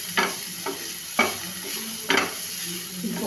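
Cauliflower and mixed vegetables are being stirred into a sizzling pan for a vegetable pulao, with a steady frying hiss under a few sharp spoon scrapes and knocks spaced about a second apart.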